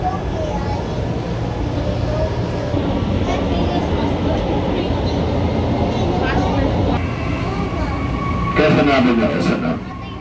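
Interior of an MRT metro train during a ride, with a loud steady rumble and rattling roar carrying through, swelling louder near the end as the train runs; people talk over it.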